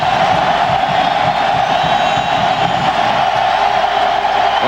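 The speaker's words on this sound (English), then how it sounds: "the crowd is now certifiably into it" A packed college football stadium crowd at a 1997 Virginia Tech vs Miami game roars continuously, a dense sustained wall of cheering with no breaks.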